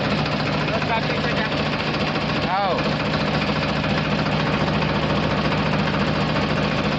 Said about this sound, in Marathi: आता ट्रॅक्टर चालू झालेला आहे